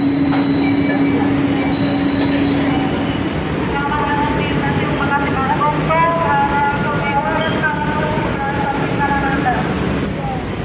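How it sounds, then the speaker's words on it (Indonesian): Light rail LRT train at a station platform at Revo Mall Bekasi hub, a steady rumble with squealing, whining tones as the train moves, plus a brief tone early on, heard continuously and fairly loud with station noise around. "Kita sudah turun dari kereta LRT"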